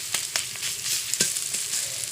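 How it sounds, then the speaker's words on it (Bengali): Spice masala with turmeric powder frying in oil, a continuous hiss of sizzling with several scraping knocks of a spatula stirring close in the pan, no voices. "একটু হলুদের গুঁড়ো দিয়ে আমি মশলাটা ভালো করে কষিয়ে নেব।"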